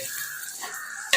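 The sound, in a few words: stirring curd into biryani in a pot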